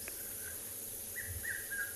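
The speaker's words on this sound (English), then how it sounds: "There's a red-chested cuckoo calling in the background." A red-chested cuckoo calls in the distance at sunrise on safari, a faint series of repeated whistled notes over a quiet background hum of insects.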